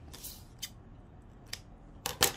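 Scissors snip stretchy knit fabric at a neckline corner in a few short, crisp cuts: two quick snips, a lone one, then a closer double snip at the end.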